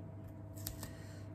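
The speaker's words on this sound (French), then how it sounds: "Oh, mes ciseaux, ils sont tellement collants." Two quick, crisp snips of sticky scissors close by, against a quiet, low background hum.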